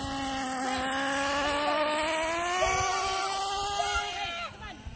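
A Losi 8 nitro RC car engine being broken in screams at high pitch, its whine climbing steadily and wavering before dropping off at the end, close and loud over background noise.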